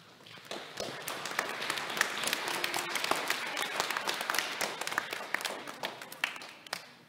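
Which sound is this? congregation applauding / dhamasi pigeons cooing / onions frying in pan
congregation applauding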